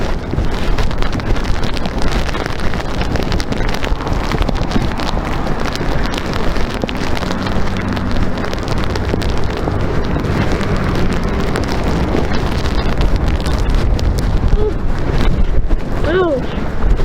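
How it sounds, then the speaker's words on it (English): Strong outdoor wind buffeting the microphone, a loud continuous rumbling roar with gusty fluctuations and a few brief voices near the end. "The wind's gonna blow on me."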